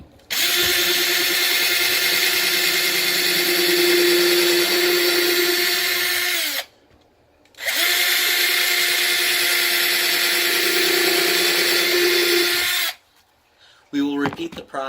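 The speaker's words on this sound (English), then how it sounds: "I like to drill holes in the ends of these" A power drill whines loudly for about six seconds while drilling small holes in wood, stops briefly, then runs again for another long stretch, close by, ending in quiet clicks.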